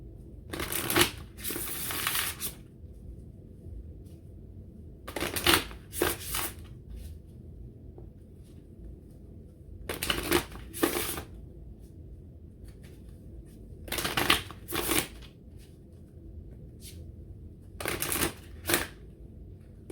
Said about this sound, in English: I'm going to pull a couple of psychic tarot cards since we have some time.